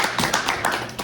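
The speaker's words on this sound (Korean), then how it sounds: "박수로 좀 맞아주세요." An audience claps in welcome, a short burst of several quick, close handclaps in an uneven rhythm.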